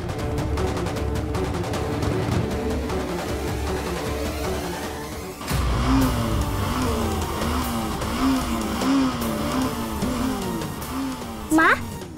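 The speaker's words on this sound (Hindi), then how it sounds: "अभद्र लोकटा बाइक टाकू केते जोरे घुंगु करी साउंड करची" A motorbike engine revs hard in repeated surges, rising and falling over a busy street, with a brief sharp noise near the end.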